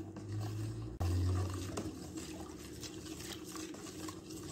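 Salt and water being stirred into a homemade liquid detergent mixture, a steady low liquid swirling and sloshing with a brief thump near the start, close and moderately loud with no talking.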